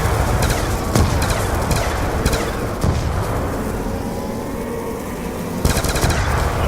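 Gunfire from a zombie survival video game, loud repeated shots in uneven bursts with sharp cracks and booming tails, running continuously with brief gaps between volleys.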